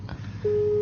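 A steady telephone busy tone begins partway through and holds unbroken to the end, clear and fairly loud over a low background hum, following a call that was hung up during a Lao Dhamma radio talk show.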